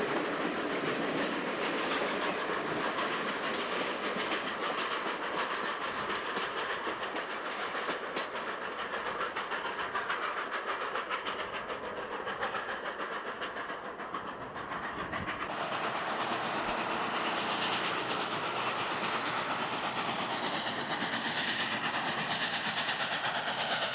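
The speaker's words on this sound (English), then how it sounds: "The Royal Hudson looks spectacular against the rocks and trees as it travels along Howe Sound." The Royal Hudson steam train travels along Howe Sound, heard as a continuous broad rumble and hiss of moving rail cars at moderate distance. The tone shifts partway through, with no talk over it.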